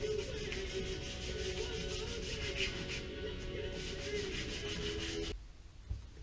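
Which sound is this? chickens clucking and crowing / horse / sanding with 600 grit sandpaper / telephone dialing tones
sanding with 600 grit sandpaper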